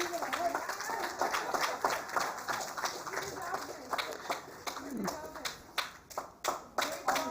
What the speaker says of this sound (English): Please give a big round of applause for Mr.